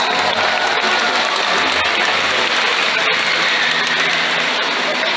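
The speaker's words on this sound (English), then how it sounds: "give yourselves a big round of applause" Audience applause at a SeaWorld San Antonio orca show, a dense, steady wash of clapping from a large stadium crowd lasting throughout, loud and continuous with no speech on top.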